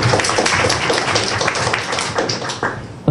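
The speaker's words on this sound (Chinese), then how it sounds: "还可以拍手了。" An audience at a lecture Q&A session applauds with dense, continuous clapping that holds steady for about three seconds.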